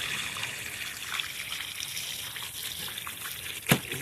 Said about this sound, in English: we're gonna start rinsing that meat